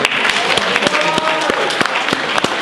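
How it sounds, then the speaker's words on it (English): Steady applause fills a media awards ceremony honouring Filipino American media, dense clapping from a crowd running throughout with sharp individual claps standing out near the front. "I want a big round of applause one more time for Honorable Kenneth Mejia."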